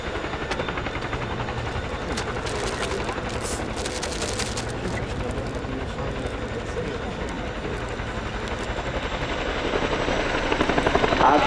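A Royal Air Force Boeing Chinook HC.6 displays at an airshow, its twin rotors beating in a dense rapid thudding that holds steady and then swells louder near the end, with a commentator talking over it.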